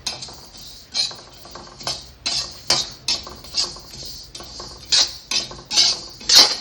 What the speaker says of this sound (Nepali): अन्तिममा यो मिठा सोप लाएर भुट्ने।